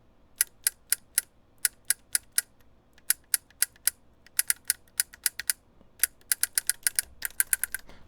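Someone types quickly on a mechanical keyboard fitted with solenoid haptic feedback, producing sharp, loud, close clicks in irregular bursts with brief pauses.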